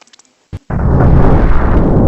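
In the video game Solar Smash, a short pop is followed by a big, loud explosion that becomes a sustained roaring rumble filling the rest of the moment.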